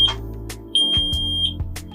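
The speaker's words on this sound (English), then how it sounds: "My mobile device's smoke alarm is emitting a beeping sound in this location." A WiFi smoke detector aboard a boat sounds a series of sharp, high electronic beeps, close and loud, repeating at short intervals over a low background hum.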